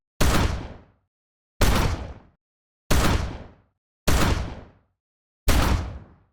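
Five separate blasts of a Doom shotgun layered with an anti-tank mine explosion, from video game sound design, each a loud sharp crack that decays to a rumble, spaced about a second apart with silence between.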